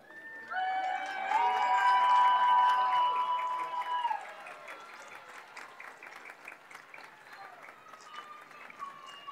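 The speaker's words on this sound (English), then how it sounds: "I want to face your families and give them a round of applause." Graduation audience of families applauding at a high school ceremony, a broad wash of clapping and some cheering that swells loudly for a few seconds then thins to scattered, fainter claps.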